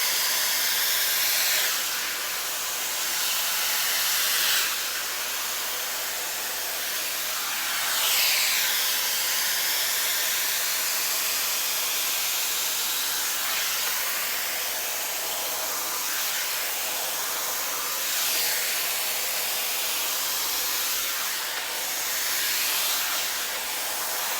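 A Shark FlexStyle hair styler blows air in a steady, loud broadband rush that swells and eases in slow waves as it is moved, with no voices.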